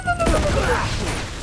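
Gunfire from Uncharted 2 cracks out in a quick burst of shots, loud and close, with a voice speaking over it.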